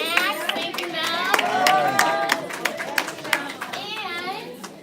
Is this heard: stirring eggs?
no